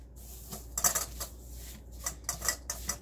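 Keto pizza dough ingredients, including an egg, are mixed in a bowl, producing irregular clinks and scraping taps of utensil against dish in short bursts with brief pauses, close and fairly quiet.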